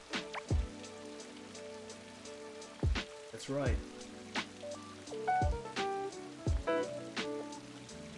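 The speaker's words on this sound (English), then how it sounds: "I wonder when the rain will stop." Rain falls in the video game Blue Reflection Sun as a soft, continuous patter under a series of sharp, ringing tonal hits, with a brief spoken voice.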